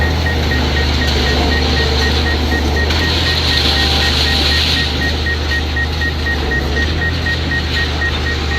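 A DJI Mavic Zoom drone sounds a rapid, steady string of proximity-warning beeps that runs continuously over loud, constant wind and motor rumble.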